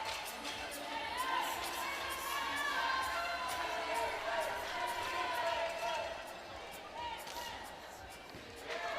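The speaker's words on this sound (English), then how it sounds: "The crowd right there, the Mexico fans, they disagreed with the call" Mexico fans in the stands roar in protest at a call during a youth Baseball5 World Cup semifinal against Cuba, a broad swelling crowd noise under a commentator's voice.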